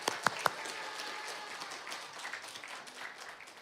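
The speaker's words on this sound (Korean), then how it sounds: "여러분을 위해서 제가 한번 박수하고 싶으니 같이 한번 박수하실까요?" A church congregation applauds its middle and high school youth group during a Sunday afternoon service, opening with a few sharp close claps before settling into steady, soft clapping from the room.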